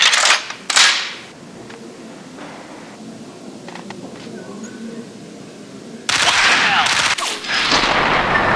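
Gunfire in the Max Payne video game: a couple of sharp shots at the start, a quieter stretch with faint clicks and background, then a loud burst of rapid firing near the end.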